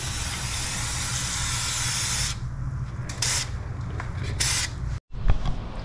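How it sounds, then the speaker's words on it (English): Fluid Film sprayed from an aerosol can onto a brake surface during a Hyundai Santa Fe brake job, heard as a steady close hiss for about two seconds, then a few shorter bursts before stopping. "we'll hit this surface with some fluid film"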